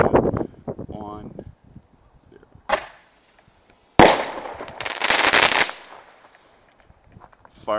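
Fireworks set off by a wireless firing system during a live test: a couple of sharp launch bursts, one brief pop and then a longer loud rushing blast lasting over a second, with voices counting down between them.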